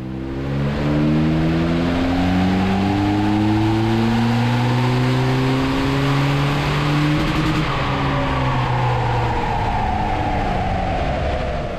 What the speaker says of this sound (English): We'll see what it does on the dyno now.